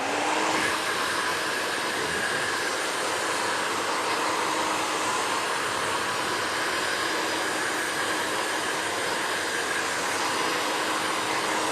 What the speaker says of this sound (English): So let's get the dryer.